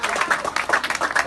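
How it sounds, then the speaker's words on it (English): A class applauds to welcome the owner of a farm during an educational farm tour, a short burst of dense, steady hand clapping from a group nearby, with murmured voices mixed in. "Let's clap for her."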